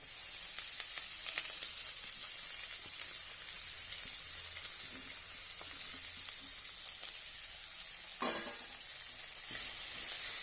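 Chopped fenugreek leaves frying in a pan for methi kadhi, a steady soft sizzle and hiss with occasional stirring scrapes and a clink, alone without talk.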